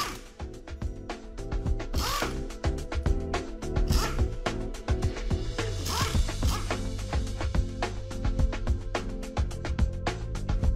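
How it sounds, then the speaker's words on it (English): Socket wrench ratcheting continuously as a 6mm socket loosens the head bolts on a Hypro D403 diaphragm sprayer pump, dense rapid clicking close up with a few louder metallic clinks, no talking. "Use a 6mm socket and remove the head bolts."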